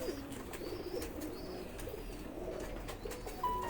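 Pigeons coo softly at a loft, faint low calls over a steady background hum with no talk.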